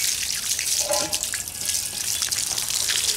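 A polished tobacco pipe rinsed under a running tap, a steady hiss of water splashing over it in a sink with small shifting gurgles and drips, close up with no speech.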